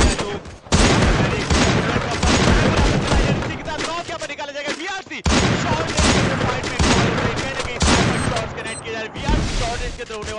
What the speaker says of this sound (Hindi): यहाँ पर गोलियां लगातार चलाई जा रही है